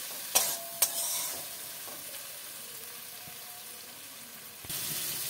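Fried potatoes being stir-fried with a spice masala in a pan, a soft, steady sizzle with a couple of sharp utensil knocks at the start and occasional scraping stirs, quiet and close.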